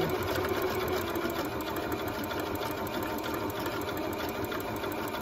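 Sewing machine driven by a foot pedal stitching a zigzag on a small quilted hot pad, running as a close, continuous rapid whir with a steady mechanical chatter throughout, no voices.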